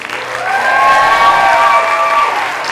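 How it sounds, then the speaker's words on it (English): An audience at an animal rights event applauds and cheers; clapping swells and holds for about two seconds with high whoops and cheers riding over it, then tapers slightly. "can we get a round of applause for Jane to see if she's ready?"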